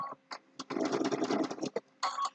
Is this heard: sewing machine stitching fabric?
yes